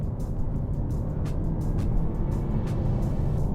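A 2019 Lexus UX 250h hybrid crossover accelerating hard, its engine and road noise forming a steady, full drone that holds level throughout, heard from inside the cabin with no talking.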